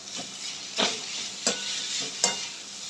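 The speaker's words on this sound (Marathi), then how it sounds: "हे आता असं व्यवस्थित मिक्स करून घ्यायचं आपल्याला सगळं जरा असं टॉस करायचं जेणेकरून आपले नूडल्स असे ना सुटत नाहीत" Veg chowmein noodles being tossed and stir-fried in a hot pan over high flame, a constant sizzle broken by regular scraping stirs roughly every second, close and loud with no voices.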